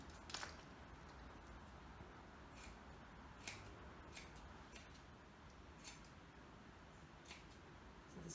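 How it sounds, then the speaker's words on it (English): Scissors snip repeatedly through layers of wool at an irregular pace, short sharp cutting clicks close up in a quiet room. "Just keep snipping it."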